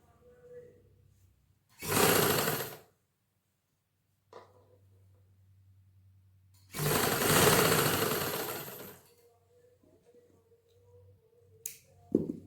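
A sewing machine stitches piping onto the round hem of a ladies' suit, running in two loud bursts of about a second and two seconds, separated by quieter handling sounds and a low hum.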